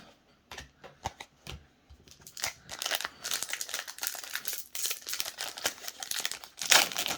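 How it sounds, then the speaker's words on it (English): Magic: The Gathering Innistrad: Midnight Hunt booster pack wrappers torn and crinkled open, sharp foil rustles and crackles coming in irregular bursts, close up and growing busier. "I will say that these packs seem to be a little bit harder to open, the ones with the full tabs, versus the ones that don't"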